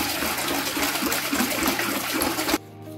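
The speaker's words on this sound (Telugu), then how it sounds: "ఇది 8 లీటర్ల నీళ్ళు పోస్తున్నాను" Eight litres of water pour into a pot in a steady, close gush for about two and a half seconds, then stop abruptly.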